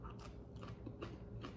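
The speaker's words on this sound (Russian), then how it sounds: "Как капусточка хрустит." Crisp crunching of pickled ginger eaten alongside sushi rolls, a few quick bites in close succession near the mic with no talk over them.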